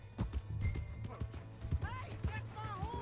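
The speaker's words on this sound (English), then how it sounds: "Hey, that's my horse!" Horse hooves clop at a steady walking rhythm in Red Dead Redemption II, close and distinct, with a voice talking over them and a brief whinny-like call.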